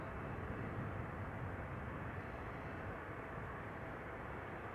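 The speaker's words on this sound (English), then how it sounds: "there is a KLM 737 on final now, arriving from Geneva, flight 1932" A KLM Boeing 737 airliner on final approach at Amsterdam Schiphol Airport, a steady broadband engine roar heard from a distance, even and unchanging throughout.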